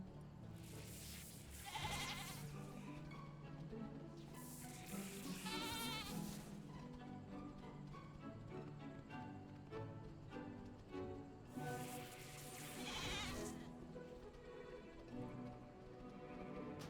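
Sheep bleat in World of Warcraft in a few separate, wavering calls over steady in-game background sound.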